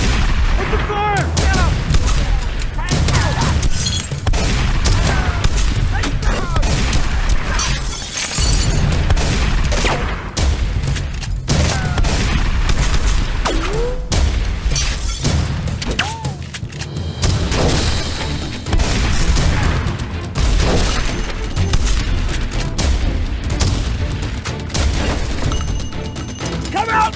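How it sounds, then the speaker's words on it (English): Rapid gunfire from an action movie fight scene, loud and dense bursts of shots with booming impacts running almost continuously, mixed with shouting voices throughout. "Open fire!"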